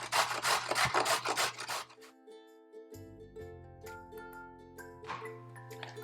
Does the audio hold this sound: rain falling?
no